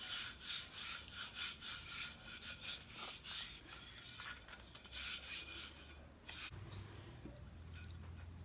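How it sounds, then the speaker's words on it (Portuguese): Hands rub back and forth over cardboard to spread material evenly, making a soft, steady, close-up scratchy rasp in repeated strokes, with no talking. "eu tô esfregando bem a mão assim para espalhar tudo mesmo"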